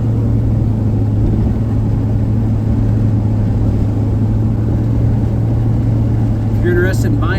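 A 1984 Chevrolet K10 short bed 4x4 truck cruises down the road, its engine a steady, loud low drone with constant road rumble that barely changes throughout.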